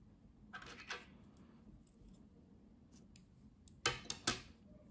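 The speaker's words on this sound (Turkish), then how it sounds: "İpliği kesiyorum." Scissors snip through knitting yarn at the neckline of a finished piece of knitwear. Several quiet, close, crisp metallic cuts come in two small clusters against a quiet room background, with no talking.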